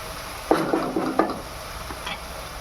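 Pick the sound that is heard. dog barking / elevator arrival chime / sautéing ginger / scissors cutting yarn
sautéing ginger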